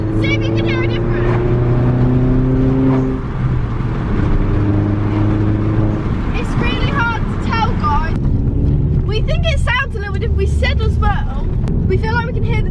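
An Audi A1 fitted with an induction kit drives along, its engine and turbo intake droning steadily under heavy wind noise from open windows, while people talk over it throughout.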